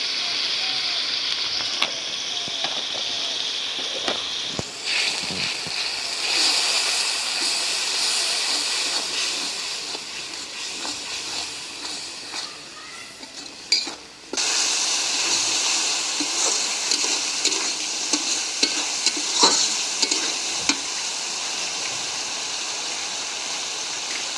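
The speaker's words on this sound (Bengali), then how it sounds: "মশলাটা ভালো করে কষাই নিলাম।" Ground turmeric, chili, coriander and cumin masala sizzling and hissing in a pan as it is sautéed, a steady soft fry with occasional stirring clatter and brief louder surges, no talking over it.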